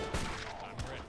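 Musket volleys in Age of Empires III, two quick muffled crackling shots under a steady game soundscape, moderately loud and slightly distant.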